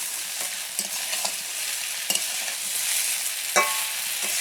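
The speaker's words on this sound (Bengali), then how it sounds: "নেড়ে দেখি আর লাগবে কিনা।" Elephant apple pickle cooks with sugar in a pan, a steady low sizzle broken by a few scraping stirs, one firmer scrape near the end.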